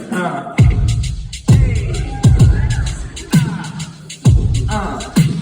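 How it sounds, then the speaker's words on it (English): A punchy 808 drum machine groove with deep booming kicks landing roughly once a second, crisp hats and snares ticking between them, loud and steady. "that's the 808 drum machine. It sounds like this."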